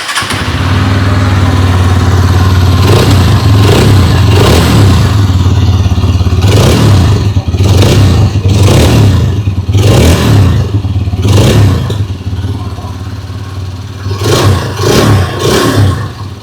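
Exhaust of a 2026 Hero Xtreme 160R 4V motorcycle, idling steadily and then revving repeatedly. There are about eight sharp throttle blips over a low, loud idle rumble, heard close with no talking.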